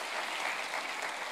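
Congregation applause at a Sunday devotional church service, steady dense clapping throughout the short stretch with no talk over it.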